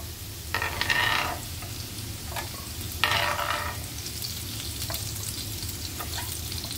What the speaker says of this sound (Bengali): ফাইনালি দেখো আলুগুলো আমার ভাজা হয়ে গেছে।